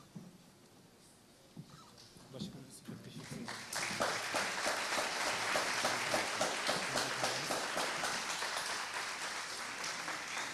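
An audience at a Father's Day celebration program at Bilgi Evleri claps to welcome a guest. Scattered sounds and a few claps at first, then the applause swells into loud, sustained clapping that carries on to the end.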